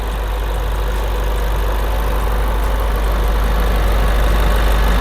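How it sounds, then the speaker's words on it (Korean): A second-generation Land Rover Discovery Sport P250 SE with under 10,000 km idles steadily with the hood open, a close, even engine drone with a strong low hum and no voices. "엔진 소리 일정합니다."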